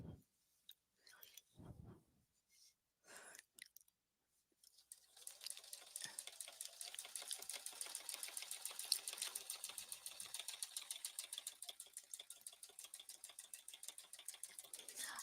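A sewing machine stitching a quilt runs in a fast, steady mechanical rattle for most of the clip, close and clear, after a few scattered handling noises at the start.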